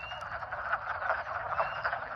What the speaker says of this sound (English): Vocal sacs allow male frogs to create noises that can travel very far,